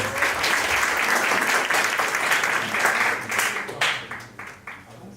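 Audience applause for a team presenting a big-data approval-rating prediction service at a 2019 data project showcase, sustained dense clapping for about four seconds before thinning and fading.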